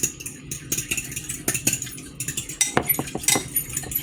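Egg and milk are whisked with a utensil in a bowl for fried green tomatoes, making rapid, irregular clinking and scraping strokes that continue close up with no talking.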